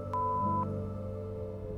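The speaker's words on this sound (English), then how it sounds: "leave it after the beep" A single clean electronic voicemail beep, a short steady tone about half a second long, heard close over a faint background hum.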